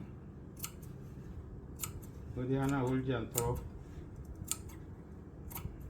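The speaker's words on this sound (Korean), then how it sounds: "이렇게 조금씩 원단을 잘라가면서 목을 만들도록 하겠습니다" Scissors snip through fabric while a garment neckline is draped and shaped on a form, producing a short cluster of cutting sounds in the middle, with a person speaking Korean throughout.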